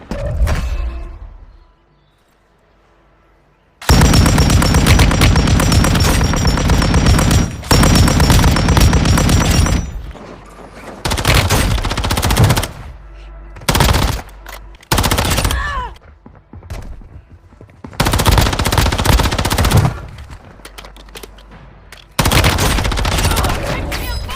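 Suppressed automatic gunfire in the mobile shooter game Warzone Mobile, loud sustained bursts separated by brief pauses, with clicks and mechanical handling sounds between volleys.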